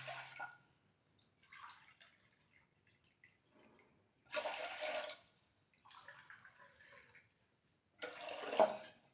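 Water poured from a tumbler into a pressure cooker holding wheat rava, heard as several separate splashing pours with quiet gaps between them, close by and with no talk over them.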